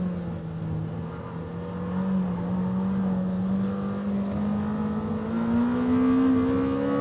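Lamborghini Temerario engine revving toward 10,000 rpm while driving, its pitch climbing steadily into a high, rising wail from inside the car, with no talk.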